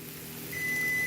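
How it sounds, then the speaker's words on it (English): A kitchen timer goes off while turkey burgers cook, giving a steady, fairly loud high-pitched electronic beep that starts partway through and holds over a low hum of kitchen background. "the timer's getting ready to ring"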